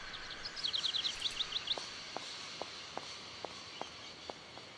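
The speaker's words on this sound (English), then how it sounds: "Oh, there's another one of those birds." Birdsong from the Syberia video game: a short run of quick high chirps sounds at first, then gives way to a series of soft, evenly spaced footsteps over a low ambient bed.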